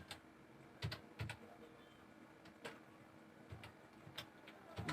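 Keys clatter on a computer keyboard in quiet, scattered bursts of typing with short pauses between, faint and close in a calm room.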